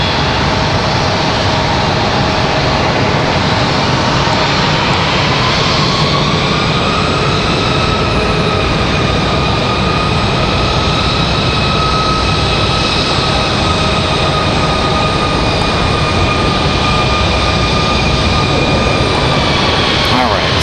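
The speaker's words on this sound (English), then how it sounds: "United finally getting up there, getting ready for their departure" A United airliner takes off at Raleigh Durham airport, its jet engines a continuous loud roar with rising and sliding whine across the whole stretch, voices talking over it.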